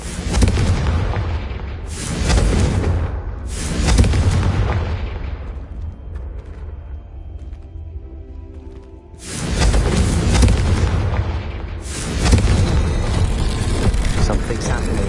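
Confringo blasting spell explosions in the Hogwarts Legacy video game, loud booming bursts in two clusters separated by a quieter stretch, with speech also present.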